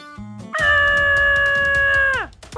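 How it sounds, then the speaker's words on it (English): A dog howling and yipping in a park, one loud sustained tonal howl after a short yip, close and clear without talk. "Today I'm playing in the park with my dog Buddy!"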